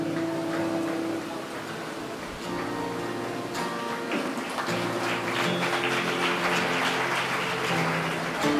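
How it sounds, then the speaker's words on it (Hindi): Sustained applause from an audience at a YMCA talent hunt and award ceremony honouring senior citizens, steady and swelling toward the end, with a faint musical tone underneath. "जरा जोरदार ताली बजा दीजिए।"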